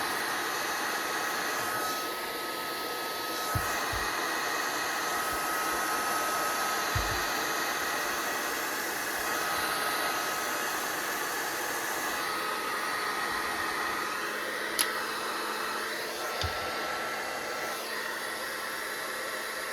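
A Bauer 20-volt cordless heat gun running continuously, a steady loud blowing whir of fan and air that holds unchanged from start to end, close and alone.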